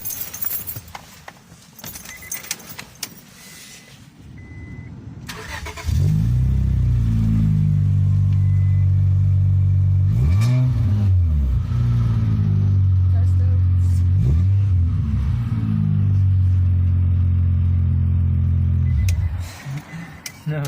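A car engine with newly touched-up exhaust and hangers, idling and then revving hard several times in loud, rising and falling bursts close by; people talk faintly before the revs begin.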